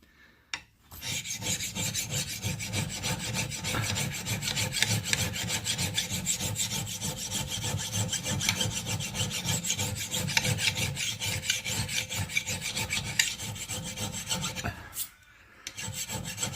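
A file rasping along a steel axe edge to sharpen it, with steady rhythmic strokes repeated for many seconds, close and alone, pausing briefly near the end.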